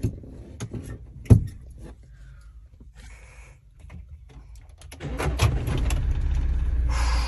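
Car engine cranking and catching, then settling into a steady idle from inside the cabin; a door thump comes earlier, and the running engine rises loud and constant during the last couple of seconds.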